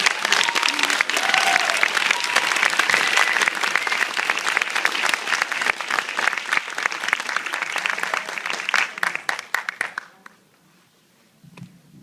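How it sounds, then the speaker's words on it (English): An audience claps loudly and steadily in welcome for a guest from Hong Kong at a live event, the dense applause holding for about ten seconds before trailing off into near silence. "Let's give a big round of applause to Ms. Claudia Young"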